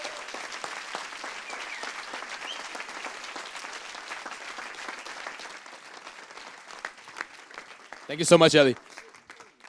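Audience applause fills a TEDx conference hall at the Ecole Hôtelière Lausanne, a steady wash of clapping from a large crowd under a speaker's voice, ending in a brief louder burst near the close.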